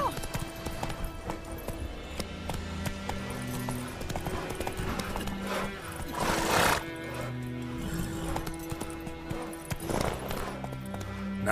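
Roach, the horse in The Witcher 3, gallops with rapid clip-clopping hooves and lets out loud whinnies, with game music and effects running underneath.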